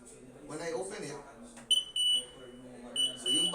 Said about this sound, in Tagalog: so yung bahay mo may alarm system.